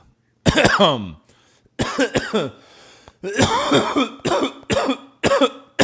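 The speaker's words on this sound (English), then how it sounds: "just gonna cough right in your fucking ears" A person coughs repeatedly at close range in several harsh bursts separated by short pauses.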